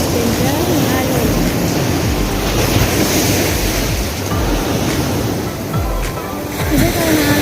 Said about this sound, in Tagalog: Ganda yung alon.